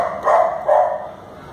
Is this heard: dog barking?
yes